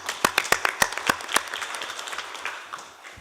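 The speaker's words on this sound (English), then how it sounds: "giving them a quick round of applause." Audience applause at a conference session, starting with a burst of sharp individual claps that thins into a softer, scattered patter and fades over about three seconds.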